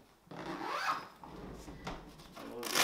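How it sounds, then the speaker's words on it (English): A zipper is pulled closed along the fabric cover of a popup wargaming display trolley, giving a few close rasping zips and rubbing strokes with a louder final pull. "Zip this up here."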